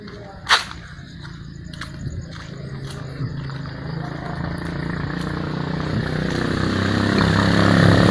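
Motorcycles passing along a narrow residential lane in Manado, North Sulawesi, a rising engine drone that grows steadily louder toward the end, with a few sharp knocks early on and a voice speaking over it.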